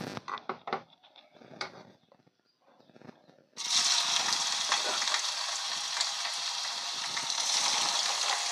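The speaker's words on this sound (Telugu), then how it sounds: "ఆయిల్ హీట్ అయ్యాక మనం ముందుగా ఉడికించి పెట్టుకున్న చికెన్ ముక్కలని ఇందులోకి" Boiled chicken pieces for pickle dropped into hot oil: a few clinks and soft handling noises, then a sudden loud, steady hiss of frying that continues to the end.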